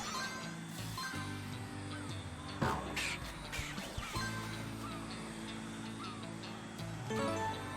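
Cartoon bird calls in a Paw Patrol video game, repeated cawing and honking cries over a busy bed of game music and effects.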